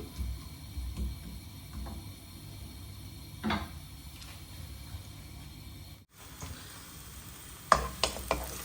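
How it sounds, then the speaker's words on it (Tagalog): Sliced onions sizzling in a hot pan, a steady low frying hiss broken by a few knocks and a clatter partway through, then sharper utensil taps near the end. "So, mainit na ang ating pan. Lagyan na natin ang ating hiniwang sibuyas."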